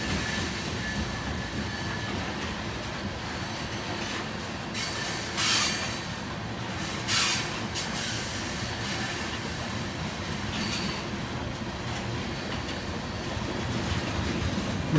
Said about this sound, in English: this is either a drag freight going between Everett and Seattle, or maybe a southbound from Vancouver.